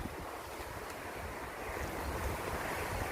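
Strong, dry, hot wind blowing through an orchard, a continuous rushing roar with buffeting on the microphone that swells slightly toward the end, and no voices.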